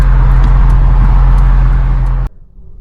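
Car engine droning loudly from inside the cabin while driving, a steady low rumble with a rhythmic whine that cuts off abruptly near the end.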